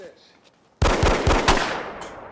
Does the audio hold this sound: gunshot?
yes